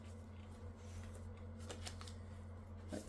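Tarot cards being shuffled by hand in a quiet room, a steady papery riffling and flicking that runs throughout with a few sharper snaps near the end, close and fairly soft with a low hum underneath.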